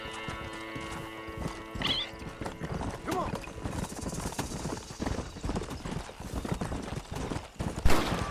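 Rhythmic hoofbeats of a ridden horse clop continuously in the Red Dead Redemption video game, with a brief whinny and someone talking over the galloping.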